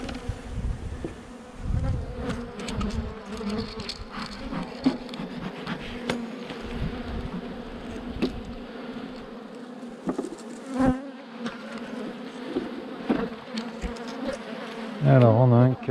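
Honeybees hum steadily around an open lower hive box that had been queenless, a dense close buzz with occasional clicks and knocks of handling.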